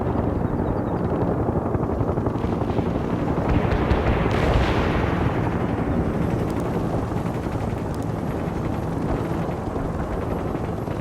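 A Gazelle helicopter flies in a war video game, its steady rotor drone dense and continuous throughout, mixed with rumbling battle noise and a brief rising swell midway.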